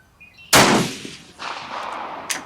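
A single loud, close rifle shot from a Steyr at an outdoor range cracks sharply, then a booming echo rolls away and decays over about two seconds.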